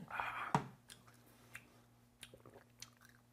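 Crunchy rice-germ snack with a nurungji-like toasted rice character being bitten and chewed close up, one firm crunchy bite followed by several softer scattered chewing crackles, quiet and with no talking.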